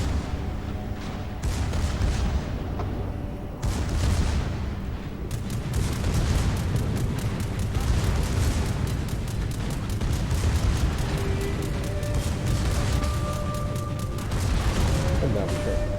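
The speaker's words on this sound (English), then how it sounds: "My cannons are good enough to penetrate the border." Ship cannons fire in a VR naval battle game, with repeated heavy booms and rapid bursts over a dense rumble, loud and continuous, while a voice talks over the barrage.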